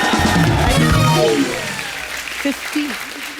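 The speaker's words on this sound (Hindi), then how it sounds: "सबसे पहले तो उषा जी के लिए इस बात के ऊपर तालियां बनती हैं।" A studio audience at a TV comedy show breaks into loud, dense applause that fades after about a second and a half, followed by a voice speaking.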